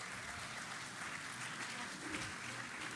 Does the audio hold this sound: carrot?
no